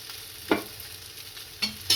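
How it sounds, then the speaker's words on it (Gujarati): Murmura and semolina snack frying in an oiled pan, a soft steady sizzle with a few sharp clatters or stirring knocks breaking through at intervals, close and unaccompanied by talk. "અને પાછું બાજુમાં તેલ લગાવવાનું। આ બંને બાજુ શેકાઈ ગયું છે"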